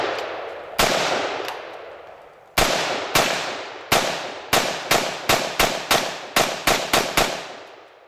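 Gunshots from a Smith & Wesson M&P15 Sport II AR-15 rifle outdoors, loud sharp cracks fired singly at first and then in a quicker, fairly steady string of about a dozen, each leaving a short decaying echo.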